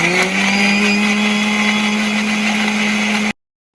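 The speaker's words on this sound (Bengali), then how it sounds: "এখন মিক্সিং জারে দিয়ে ভালোভাবে ব্লেন্ড করে নেব।" A kitchen mixer jar blends onion and garlic with a little water into a paste. The motor whine is loud and steady for over three seconds and then cuts off abruptly.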